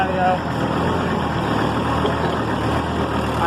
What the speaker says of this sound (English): I'm on this loud tractor